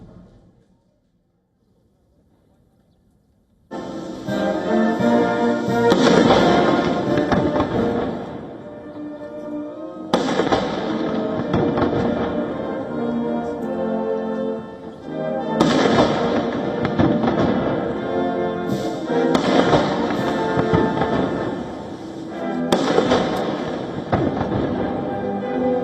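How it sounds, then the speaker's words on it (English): A 21-gun cannon salute fired for Trump alongside Xi Jinping at a military honor guard ceremony in China: loud, reverberant booms arrive every few seconds, each one trailing into a long, rolling echo that fills the gaps between shots. "received a 21-gun salute"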